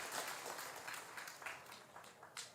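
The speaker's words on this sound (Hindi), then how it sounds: "ताली बजा दीजिए" Audience applause at a Pandokhar Dham gathering, a soft, distant wash of clapping with a few sharper bursts, faint throughout.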